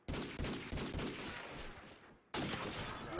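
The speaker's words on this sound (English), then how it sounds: "He's gonna whip out the gold desert eagle, fire a couple of shots" A gold Desert Eagle fires in Modern Warfare 2, three or four sharp pistol shots in quick succession. A short pause follows, then more shooting resumes, with no voices over it.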